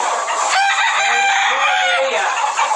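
A rooster crows nearby in a long, rising and falling call, with other fowl clucking and calling around it in a steady farmyard din.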